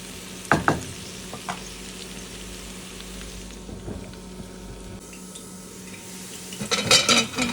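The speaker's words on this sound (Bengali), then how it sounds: "তাই আমি সারিনটা দিয়ে নাড়াচাড়া করে নিচ্ছি" Canned sardines stirred into softened potatoes in a frying pan: a low continuous sizzle with a couple of sharp utensil knocks at the start and a burst of scraping stirring at the end.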